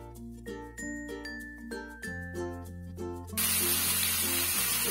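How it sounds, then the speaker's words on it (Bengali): Boiled taro leaves hit a hot wok with ginger, and a sudden, loud, continuous hiss of sizzling starts partway through, after a gentle melodic tune plays alone. "সেইগুলো আমি কড়াইয়ে ছেড়ে দিচ্ছি।"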